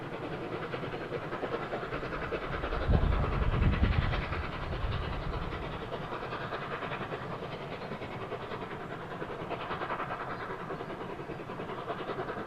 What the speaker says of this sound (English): the Flying Scotsman peppers its way down the valley